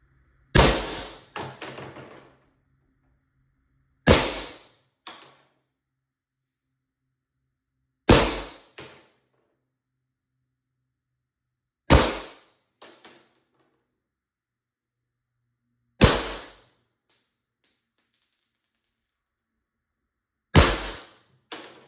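Pepperball VKS less lethal launcher fitted with a repaired firing pin fires six sharp, loud shots spaced about four seconds apart, each a crisp pop with a brief mechanical clack after, in a quiet setting.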